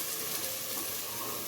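Finely chopped medium onions sizzle steadily in well-heated oil in a pan for Kashmiri chicken masala, a continuous soft crackling hiss with faint stirring and no voices.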